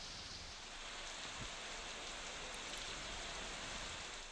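Heavy rain falling across a district near Nashik, a steady, even hiss of rain holding throughout, faint and distant with no talk.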